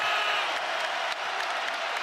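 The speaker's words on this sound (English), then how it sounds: "Crowd on its feet here at Stores." Basketball arena crowd on its feet at a Seton Hall versus Connecticut game, a dense roar of applause and cheering that fills the whole stretch, loud and continuous.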